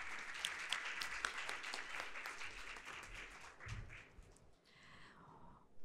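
A conference audience at a BTG Pactual crypto-asset talk bursts into dense, sustained applause that gradually thins and fades out.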